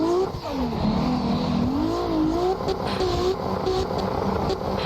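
A car engine revs and wavers in Assetto Corsa as the driver works the throttle through a drift, the pitch rising and falling continuously, loud and close, with some tire noise and no talking.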